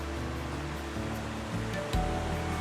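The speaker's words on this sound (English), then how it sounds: "Well, I found the waterfall." Indoor waterfall at the TRX Exchange mall in Kuala Lumpur, a constant broad rushing roar of falling water, loud and close, with faint mall ambience and a dull thump near the end.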